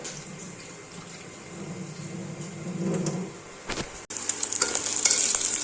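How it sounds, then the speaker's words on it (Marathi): Onions frying in a pan toward golden in a pressure-cooker aloo pulao, a steady close sizzle with occasional stirring scrapes, briefly interrupted, then a brighter, louder hiss returns near the end. "आपण गोल्डन कलरचा होईपर्यंत हा व्यवस्थित असा तळून घेणार आहोत"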